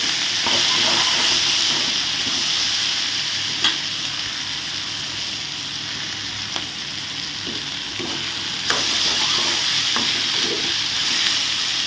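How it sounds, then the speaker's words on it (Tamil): Salted brinjal sautés in a pan for a tomato-brinjal chutney, making a steady, close, hissing sizzle with occasional faint stirring taps and no talking. "இந்த கத்தரிக்காய் வதங்கிட்டு இருக்கும்போது"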